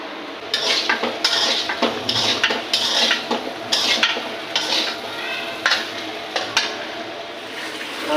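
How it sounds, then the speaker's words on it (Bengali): Boiled potatoes fry in a pan in a home kitchen, heard as a steady sizzle. Utensils scrape and clatter against the pan in repeated close strokes, with no talk. "আলু সেদ্ধ করে ভেজে নিচ্ছি"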